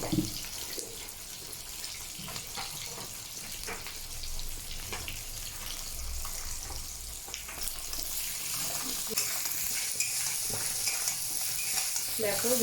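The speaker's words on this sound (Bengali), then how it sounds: "দেখো ভেন্ডিটা এইভাবে ভাজছি" Okra and fish roe frying in a pan without water while being stirred, with a constant close sizzle, scraping stirs and a brighter, louder hiss toward the end, no talking.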